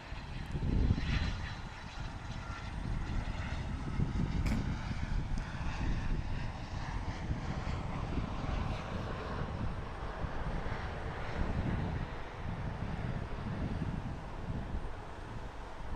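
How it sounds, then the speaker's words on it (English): A Cessna flies past at Portland International Airport, its propeller engine a steady droning rumble that swells slightly and holds, with wind buffeting the microphone. "There's a Cessna flew by."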